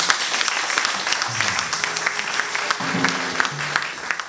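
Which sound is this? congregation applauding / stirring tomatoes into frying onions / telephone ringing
congregation applauding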